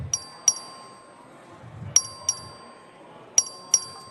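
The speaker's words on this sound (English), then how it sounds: "The clerk will ring the bell." Bright electric bell rung by the clerk to call a record vote in a legislative chamber: three pairs of sharp metallic dings with ringing tails, spaced apart over a quiet room.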